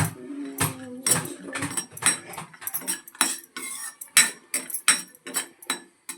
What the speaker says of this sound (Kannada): ಇವಾಗ ಡ್ರೈ ಫ್ರೂಟ್ಸ್ನೆಲ್ಲ ನೀಟಾಗಿ ಹುರಿತಾ ಇದ್ದಾರೆ